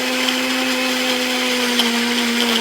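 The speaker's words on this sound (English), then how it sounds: "I'm through pureeing my strawberries" A kitchen blender pureeing fresh strawberries runs with a steady, loud motor whine and constant high hum, unbroken for the whole stretch with no voices.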